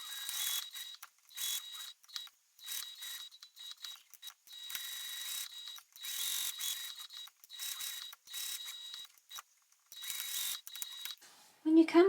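A sewing machine stitches back and forth over a snap tab, giving rhythmic mechanical whirring bursts separated by short pauses, close and moderately loud.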